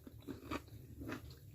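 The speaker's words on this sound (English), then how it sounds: "You still have a little bit of crunch inside, but not that very hard crunch." Two crisp bites into a cooked carrot dish seasoned with chili, ginger, garlic and lemon, each a short close crunch followed by a softer chew, with no talking.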